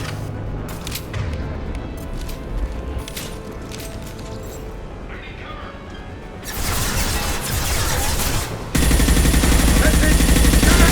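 Rapid bursts of gunfire fill a Mass Effect 2 firefight, with scattered shots at first, then dense, loud, sustained volleys near the end, and voices shouting in between.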